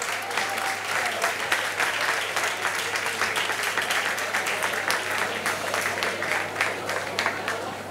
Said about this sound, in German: einfach ganz, ganz einen grossen Applaus geben